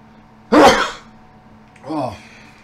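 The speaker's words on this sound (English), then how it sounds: "I'm about to sneeze." A loud, close sneeze bursts out once in a quiet room during a pinball game, followed by a softer breathy sniff or sigh about a second later.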